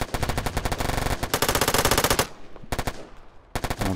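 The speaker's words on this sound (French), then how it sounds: "tout le monde tire sur eux, ça se fait automatiquement" Rapid machine-gun bursts from the online strategy war game Warfare Online, loud and close, crackling in dense sustained volleys that break off briefly and then resume.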